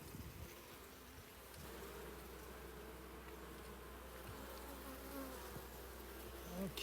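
Honey bees buzz steadily at an open hive during an inspection, a dense continuous drone close by with no talking.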